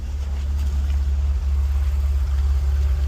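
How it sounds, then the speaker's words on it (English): A BMW Z3 with an M54 engine idles roughly because of a vacuum leak, a steady low rumble with slight unevenness, close and loud, and no one speaks. "the engine is running a little rough right now"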